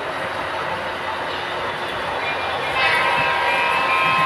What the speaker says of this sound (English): when the little train gets on one of the figure eights, you'll see the train speed up and slow down